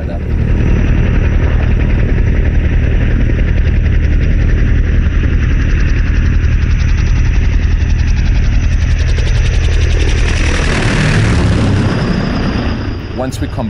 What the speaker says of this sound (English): the sound of the startup, the power of the engine firing up, and the sound of the rotors chopping through the air